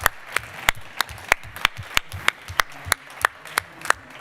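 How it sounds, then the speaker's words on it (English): An audience claps for a photographer at a dive trip event, about a dozen sharp, evenly spaced claps at a steady rhythm over a quiet room, with no talking. "I think we have to give an applause to Tony"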